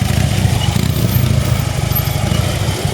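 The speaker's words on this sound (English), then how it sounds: "around comes the motorcycle" A motorcycle engine idles low and steady while the bike rolls slowly through a tight 24-foot U-turn at about 8 to 10 mph, a continuous close rumble with no voices.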